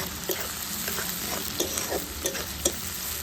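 Spices stir-fried in oil for Bengali chicken kosha: a steady sizzle with repeated scraping and stirring strokes of a spatula in the pan, close and continuous, no voices.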